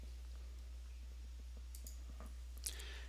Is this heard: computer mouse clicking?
yes